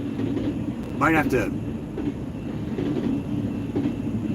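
A Pacer double-stack freight train rolls past on the rails, a steady broad rumble continuing throughout with a brief squeal near the start, while someone talks briefly over it.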